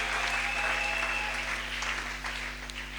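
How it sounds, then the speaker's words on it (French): A church congregation breaks into sustained applause during a sermon, a dense wash of clapping that fades slightly over a few seconds, heard from within the crowd with a steady hum beneath. "Si tu es là, acclame cette parole."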